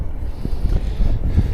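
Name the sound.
wind blowing into microphone while riding a bike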